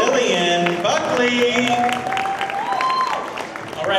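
Applause rises from a pageant audience for a contestant, a dense steady wash of clapping and crowd noise that holds fairly loud throughout, with a bright sustained tone running over it partway through.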